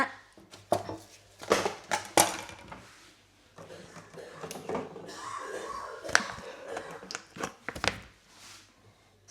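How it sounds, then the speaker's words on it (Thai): A frying pan is set onto a home kitchen stove after noodles are boiled, producing several close metallic clanks and knocks, separated by quieter rustling pauses. "ตอนนี้นะคะเราก็จะมาตั้งกระทะ"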